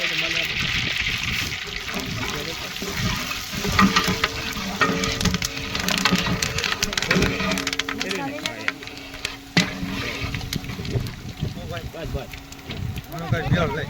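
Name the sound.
dal tempering sizzling in hot oil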